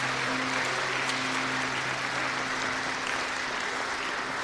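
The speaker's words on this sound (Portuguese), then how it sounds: "a gente poderia aplaudir esse grupo, por favor" A church congregation applauds a group, a dense, steady wash of clapping from many hands that continues evenly throughout, with a low sustained hum beneath it.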